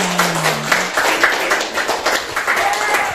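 Classroom applause from students during a lesson, a short burst of clapping with distinct individual hand strikes, close and fairly loud, with a voice heard briefly at the start.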